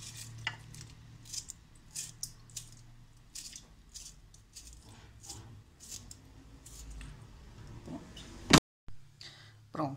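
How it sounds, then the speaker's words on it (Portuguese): A small wooden spoon stirs a quick home-cooked dish with tomato in a pan, giving scattered soft scrapes and clinks against the pot at an irregular pace, with light sizzling and a loud knock near the end. "eu agora vou mexer aqui com a minha colherzinha de pau"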